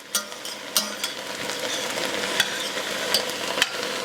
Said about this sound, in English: I'm going to stir that around to kind of get it evenly distributed throughout.